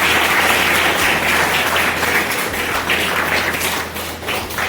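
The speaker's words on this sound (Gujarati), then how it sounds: "આપણે સૌ તાળીઓના ગણગણાટ સાથે કરીશું." Steady audience applause fills a school event hall, many hands clapping continuously and evenly at close to moderate distance, with no pause throughout.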